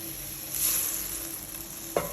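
Shrimp and squid stir-fry with minced pork in a little water in a hot pan, a soft continuous sizzle with a brief clack of the spatula near the end, no voices.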